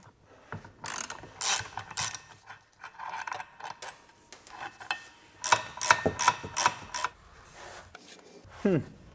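Driveshaft flex disc bolts come off a Mercedes E55 AMG with a hand ratchet, close and loud in bursts of rapid clicking with short pauses and a metallic clank between runs.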